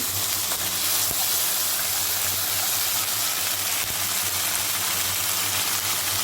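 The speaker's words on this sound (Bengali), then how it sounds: "এখন আদা বাটা আর কাঁচা লঙ্কা বাটা দিয়ে মশলাটা একটু ভেজে নিচ্ছি" Ginger and green chilli paste fry in a pan with cardamom, cinnamon and cloves, giving a loud, continuous sizzling hiss that holds steady throughout.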